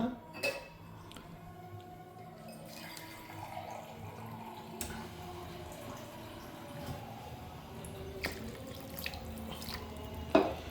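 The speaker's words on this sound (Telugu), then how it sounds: "బాగా కొంచెం వాటర్ పోసి బాగా మసలించాలండి పులుసు అప్పుడే టేస్ట్ అనమాట" Water is poured into a simmering egg curry broth in a large home kitchen cooking pot, a faint steady watery wash with occasional clinks of utensils and pot against a low background.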